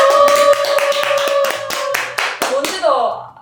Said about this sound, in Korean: 뭔지도 말 안 했는데 박수 치시는 거예요?